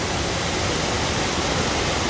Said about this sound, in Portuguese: E agora a linda cachoeira de Canápolis do Córrego do Cerrado.